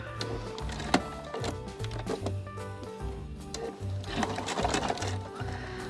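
A sewing machine runs in short repeated bursts as it stitches and tacks off a quilt binding, its motor whirring steadily between brief pauses, close and fairly quiet with no one speaking.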